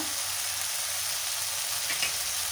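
Vegetables seasoned with turmeric and garam masala sauté in a pan for a vegetable sandwich filling, giving a steady, soft sizzle that holds at an even level throughout, with no one speaking.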